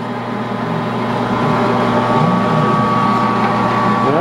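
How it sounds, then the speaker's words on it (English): Steady mechanical hum of a 13x40 lathe's electric motor running continuously, with a constant tone and even loudness throughout. "Heck, most of what you're hearing is the motor."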